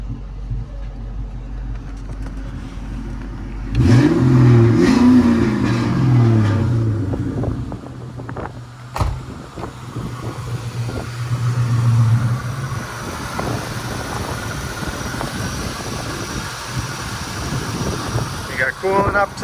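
A Ford SVT Cobra with a cooling-system problem idles while it warms up, a low steady rumble under wind buffeting on the microphone. A sudden burst of louder, rougher engine noise comes in partway through, and a few knocks sound nearby.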